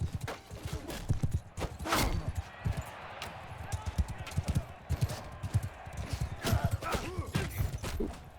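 Horse hooves clop and gallop in a steady rapid rhythm while riding on horseback in the medieval battle game Mount & Blade II: Bannerlord, mixed with battle noise and someone talking over it.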